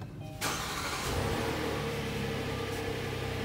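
A 2020 Kia Telluride engine cranks and catches with a loud close burst, then settles into a steady, rich idle heard from inside the vehicle, with no speech.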